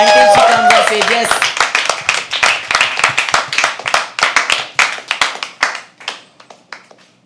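An audience applauding at a live poetry open mic, with a burst of dense clapping that thins into scattered, fading claps; a voice speaks briefly at the start.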